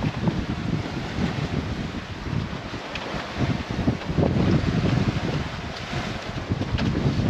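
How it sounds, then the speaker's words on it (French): Rough sea waves and strong wind buffet a catamaran, with a loud, constant roar of wind noise on the microphone and surging water that rises and falls, without any talk. "La mer est un peu grosse quand même."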